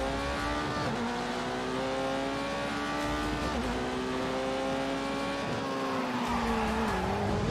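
Engine revving steadily under a continuous high tyre squeal while a car is drifted in The Grand Tour Game, with pitch dipping briefly through the slides; loud and close, with no talking.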